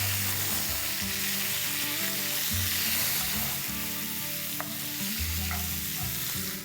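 Onions and freshly added long-cut tomatoes sizzle and fry steadily in a pan while making dal gosht, a mutton and lentil dish, with occasional stirring scrapes; continuous, close and moderately loud, with no talking.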